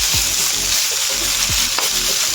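A potato filling for parathas fries dry in a pan, a loud, steady sizzle with occasional scraping stirs of a spatula cutting through the hiss.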